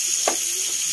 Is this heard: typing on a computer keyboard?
no